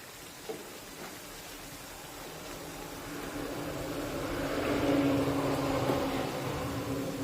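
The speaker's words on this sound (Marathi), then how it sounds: "आता अशाच पद्धतीने या वड्यांची दुसरी बाजू सुद्धा तळून घेऊया." Poha-based crispy medu vadas deep-fry in hot oil, giving a steady soft sizzle and bubbling hiss that gradually swells louder, with no talking.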